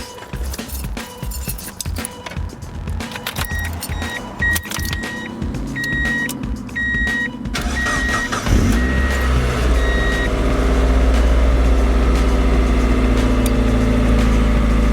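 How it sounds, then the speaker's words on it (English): A Mazda Miata engine cranks and starts, settling into a loud, steady idle after a series of electronic chimes and beeps. "I'm going to go ahead and turn my vehicle on."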